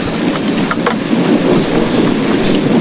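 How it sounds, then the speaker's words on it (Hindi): Heavy rain pouring in a steady dense roar with a low rumble underneath like distant thunder, loud and continuous, no voices. "बारिश तो जैसे कम होने का नाम ही नहीं ले रहा था। और उसके साथ था जोर जोर से बादल की गरजने की आवाज"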